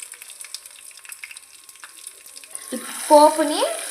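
Dried red chillies, crushed garlic, curry leaves, asafoetida and tempering spices crackle and sizzle in hot ghee with a steady spatter, followed near the end by a brief voice.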